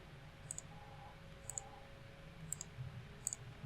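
Sharp, faint computer mouse clicks while working in 3D modeling software, four evenly spaced single and double clicks over a low steady hum, no talk.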